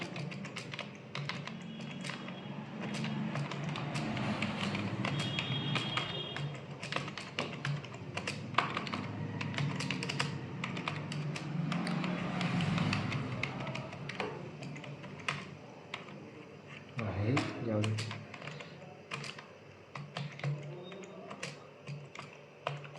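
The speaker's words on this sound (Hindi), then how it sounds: "तो मैं टाइप कर लेता हूँ यहाँ पर।" A computer keyboard clatters as someone types in Notepad, with rapid, irregular keystrokes in bursts and short pauses, fairly quiet and close throughout.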